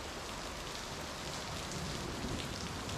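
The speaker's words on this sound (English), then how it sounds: "the rain and the storm has come down" Steady, dense rain pours down during a storm in Chiang Rai, Thailand. It makes a constant hiss with no pauses and no voices.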